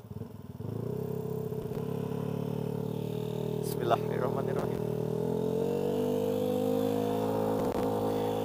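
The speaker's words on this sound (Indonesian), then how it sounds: "gue udah paling males kalau ngebawa motor ngegerung gini di tengah-tengah nih" A Vespa Sprint scooter engine drones loudly and steadily throughout, rising slightly in pitch as the throttle is held open, with someone speaking briefly over it at the start.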